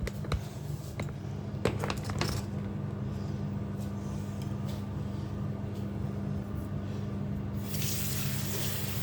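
Fresh garden tomatoes get rinsed under a running kitchen tap, a steady close rush of water with a few light knocks and clinks over it, the flow brightening toward the end.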